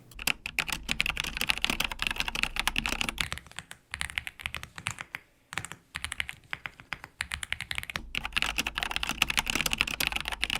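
Rapid, continuous mechanical keyboard typing, close and crisp, with clacking keystrokes in fast bursts and a few short pauses.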